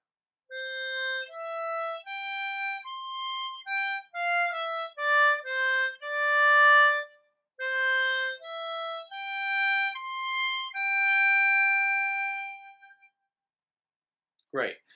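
C harmonica plays slow phrases of a Christmas ballad, clear sustained single notes with a few bends, alone and close, ending in a brief sharp noise.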